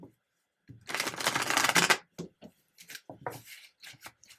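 Playing cards are shuffled close up, one long riffling burst followed by several shorter rustling and tapping bursts separated by quiet gaps.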